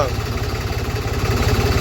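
A Mahindra Arjun tractor idles close by while waiting in a queue at a weighbridge, a loud, steady, pulsing diesel chug with no break.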